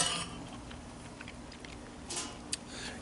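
A big spoon scrapes baked oysters from a Dutch oven, giving faint, sparse metallic scrapes and light clicks over a low background hiss.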